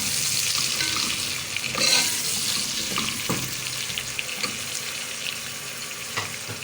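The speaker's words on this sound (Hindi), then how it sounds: "अब हम अंदर डाल रहे हैं टमाटर।" Tomatoes sizzle in hot oil with browned paste and green chilli in a mutton karahi, giving a steady frying hiss with occasional stirring scrapes and knocks, close up and without talk.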